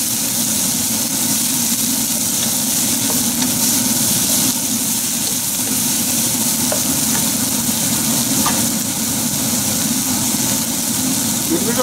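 Vegetables stir-frying in a wok for Chinese cumin chicken, a loud continuous sizzle with a low hum underneath and a few faint clinks scattered through.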